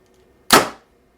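An arrow loosed from a bow at 20 yards strikes a blank bale indoors: one sharp, close smack with a brief whooshing tail that fades within a third of a second against near silence.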